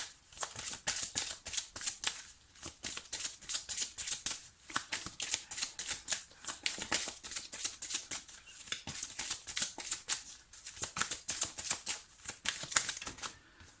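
Oracle cards are shuffled and drawn by hand in a close, continuous flurry of crisp riffling and flicking, with dense rapid bursts and short gaps over about fourteen seconds, no voice.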